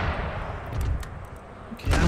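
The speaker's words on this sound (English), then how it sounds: "At least my howitzers can get shots into the center." Howitzer artillery firing in the strategy game Empire: Total War, distant booms and rumbling gunfire spread across a noisy battlefield, with a heavier blast near the end.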